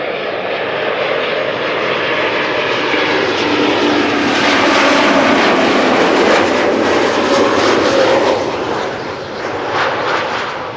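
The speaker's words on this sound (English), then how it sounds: "This is KLM flight 1830, arriving from Stuttgart. Embraer 190" A KLM Embraer 190 arriving at Amsterdam Schiphol from Stuttgart gives off a loud, continuous jet engine roar that swells slightly in the middle and eases toward the end, with no voices over it.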